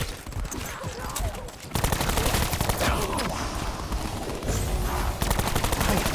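Heavy, continuous automatic gunfire pours into a hulking Blight Father creature in a horror shooter game. The rattle jumps louder partway through, and voices sound over it.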